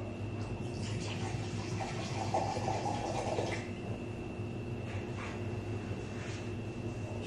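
Watermelon Ciroc vodka pours from its bottle in a steady liquid stream that is close and clear for about three and a half seconds, then thins to faint trickles under a constant background hum.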